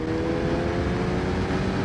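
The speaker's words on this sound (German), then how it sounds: "Also dieser Sound, der Auspuff, dieser bassige Klang." Deep, steady Kawasaki Ninja ZX-9R motorcycle engine rumble with a bassy exhaust drone, held at constant revs and heard up close without any voices.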